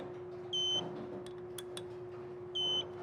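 A torque wrench set to 10 newton meters beeps while tightening the clutch of a 2019 Kawasaki Ninja H2, two short high electronic beeps about two seconds apart over a quiet steady hum, no voices.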